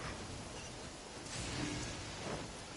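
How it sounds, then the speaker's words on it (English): Steady wash of heavy rain with a low rumble of thunder swelling midway, from a thunderstorm in the video game Genshin Impact, a continuous, dense roar with no voices. "out of this thunderstorm."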